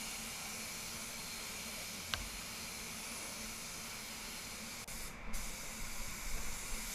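A spray gun lays a quick top coat on the interior of a BMW X1, giving a faint, steady airy hiss throughout with a brief louder burst near the end.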